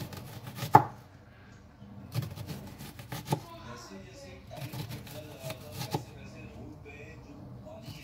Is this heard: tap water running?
no